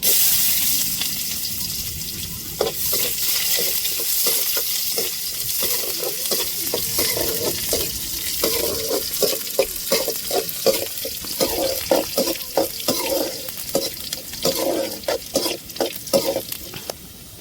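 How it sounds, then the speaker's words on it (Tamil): Mustard seeds crackle and sizzle in hot oil for a coconut chutney, with a steady frying hiss and a rising series of sharp popping bursts as the seeds sputter and jump in the pan. "இப்போ சட்டினிக்கு எண்ணெய் சுடேறிட்டு கடுகை தாளிச்சுக்கிறோம்"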